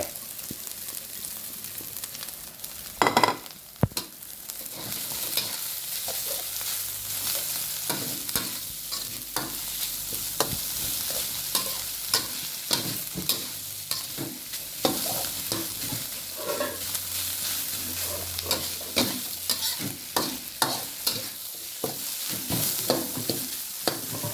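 Roasted field rat meat being stir-fried in a pan, with continuous sizzling and frequent scraping, clattering stirs of a utensil against the pan, fairly close and with no voices.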